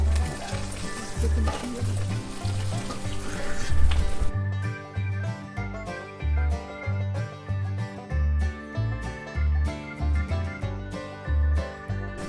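Carnation condensed milk poured into a hot pan for country gravy sizzles with a rush at first, then settles into steady frying with rhythmic, regular thumps of stirring against the pan.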